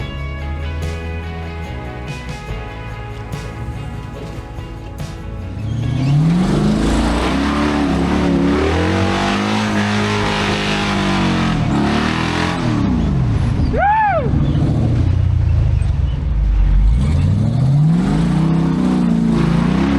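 An off-road vehicle's engine revving hard during a river crossing, quiet idling at first, then loud sustained roaring with rising and falling pitch as the tires churn, close and dominant throughout.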